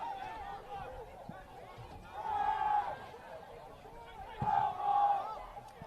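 Spirited crowd and student section cheering at a Belmont soccer match, loud swelling roars rising in two waves over a constant murmur of chatter, with a commentator's voice partly audible beneath.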